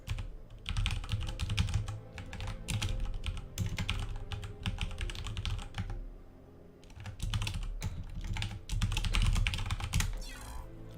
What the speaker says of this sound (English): Sorry for the typing, I'm just going to log back in here.